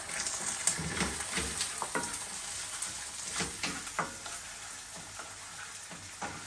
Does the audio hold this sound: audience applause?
no